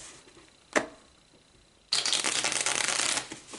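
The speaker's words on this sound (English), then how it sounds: "let's pull some more cards" Tarot cards are handled for a reading: a single sharp card snap, a pause, then a loud, dense riffle shuffle running for over a second before trailing off, close up with no talk.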